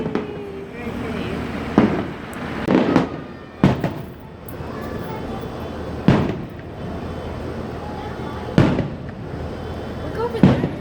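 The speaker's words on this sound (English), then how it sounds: "There's fireworks." Fireworks bursting over Disneyland, seen from a nearby hotel, with sharp booming explosions every second or two, some crackling, over steady crowd murmur and people chatting nearby.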